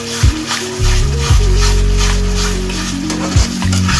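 Turmeric, salt and chili powder sizzle steadily in hot oil in a pan while cooking a raw banana curry, a continuous close frying hiss with a few brief stirring bumps.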